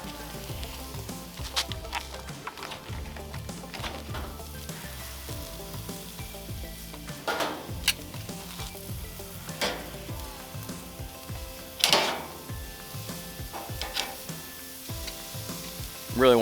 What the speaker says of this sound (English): I'll throw some of these big old brats on the top rack